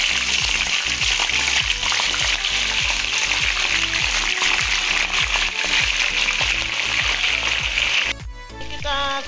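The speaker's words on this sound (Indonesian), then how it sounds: "Kita goreng ayamnya" Pieces of chicken fry in hot oil with a loud, continuous crackling sizzle, close and steady, over a faint rhythmic background that shifts near the end.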